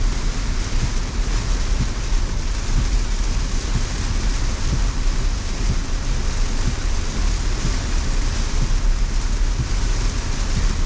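Heavy rain downpour pounding on a Tesla as it drives, a dense continuous roar of drops and road noise throughout, loud and close with no voices.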